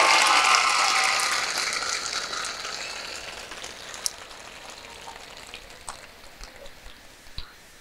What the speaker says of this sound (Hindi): खुद के लिए तालियां बजाओ एक बार शानदार।